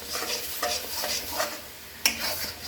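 Paneer butter masala roasting in a pan while it is stirred steadily, with a soft sizzle under repeated scraping strokes and one sharp utensil clink near the end.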